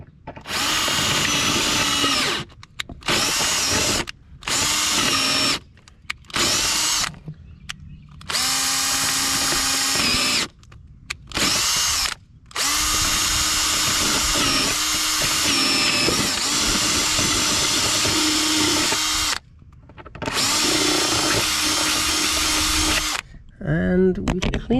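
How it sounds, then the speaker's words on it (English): A power drill fitted with an 11/64 bit runs in repeated loud bursts of whirring, starting and stopping many times with short pauses between. "So let's go for 11/64 of drill bit"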